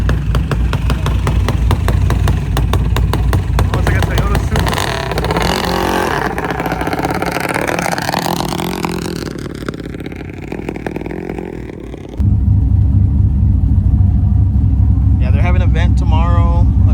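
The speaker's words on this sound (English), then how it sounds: "Got a little junior dragster here showing up" Junior dragster engine revving loudly and continuously at a drag strip, a steady rumbling drone that dips mid-way before surging back even louder, with people talking over it.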